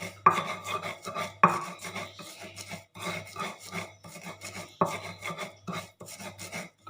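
Spices are ground in a stone mortar with repeated rough, rasping strokes at an uneven rhythm. A few sharper scrapes stand out among them, and short pauses fall between the strokes.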